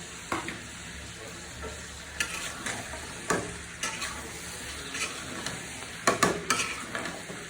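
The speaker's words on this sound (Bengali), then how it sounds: "আমি মানে এগুলো দিয়ে আর কিছুক্ষণ কষিয়ে নেব" Chicken liver and small-cut potatoes sautéing in a pan for a hotel-style gila bhuna, with a steady sizzle and repeated scraping clinks of a spatula stirring, close and alone.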